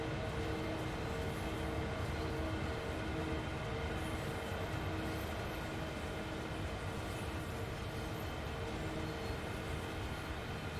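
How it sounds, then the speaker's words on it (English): A CSX freight train rolls past in Train Sim World 2, a steady, dense rumble of railcars that holds constant and loud for the whole stretch, with no voices. "this train is going to pass us by"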